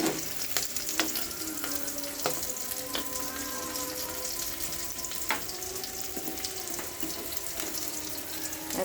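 Onions frying with ginger and garlic paste in a pan for pigeon curry, a steady loud sizzle with stirring clinks and a few sharp knocks, no voices.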